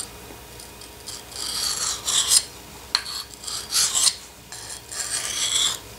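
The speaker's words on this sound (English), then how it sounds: "every time you hone or sharpen a knife, you lose material on the blade" A knife blade scrapes repeatedly across a sharpening stone in rhythmic back-and-forth strokes, close and crisp, about eight passes with short pauses between, no voices.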